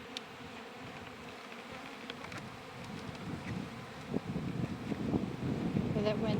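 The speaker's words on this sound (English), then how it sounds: "Oh, that wind is whipping." Gusty wind buffets around an open beehive, rumbling in the microphone and building louder toward the end, with a faint insect buzz and muffled talk beneath.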